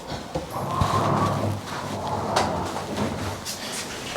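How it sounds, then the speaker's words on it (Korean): A drawer slides out of a cabinet in a new apartment during anti-toxin sealing work, giving a rumbling, scraping slide with a soft knock near the start, close and moderately loud, with no talk. "그런 작업을 하기 위해서 이런 서랍을 빼고 있어요."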